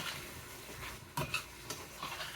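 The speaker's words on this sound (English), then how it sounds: "I just want to give these a little browning with my hamburger meat." Hamburger meat browning in a pan for homemade spaghetti, giving a low steady sizzle with a few sharp clinks of a utensil stirring against the pan.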